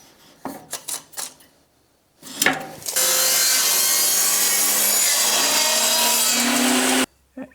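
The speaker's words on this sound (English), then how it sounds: "I'm going to take 1/2 inch on this side and 1/2 inch on this side, and I'm gonna be doing that on my table saw" A table saw rips a wooden board to width for a DIY golf swing trainer build: a few short knocks and setup noises, then a loud, steady whining cut lasting about four seconds that stops abruptly.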